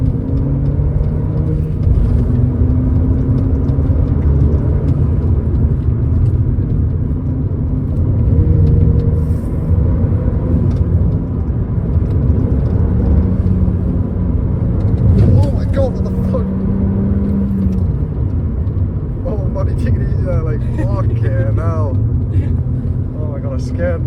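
A tuned Ford Fiesta making about 300 bhp drives hard along country B roads, its engine rumbling loud and steady throughout with rising and falling revs, while someone talks over the cabin noise.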